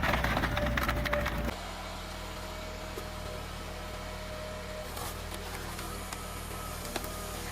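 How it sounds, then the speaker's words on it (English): A firewood processor's sharp saw blade slices through a log with a loud, crackling, splintering burst that lasts about a second and a half, then drops to a steady engine hum with scattered knocks. "a sharp saw blade slams down and slices through the wood decisively"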